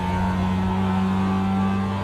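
Race car engine in iRacing after a downshift to third gear, a steady loud droning engine note with strong harmonic tones, held without pause.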